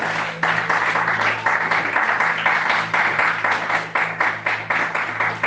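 A church congregation applauding, steady sustained clapping from many people in a large room, loud and continuous with a faint background hum.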